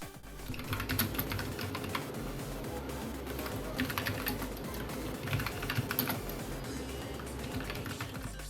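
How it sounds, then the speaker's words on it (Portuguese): Steady typing on a Redragon Anubis mechanical keyboard with brown switches, a continuous patter of muted, close keystrokes with no voices. "Os switches do Anubis são do tipo marrom."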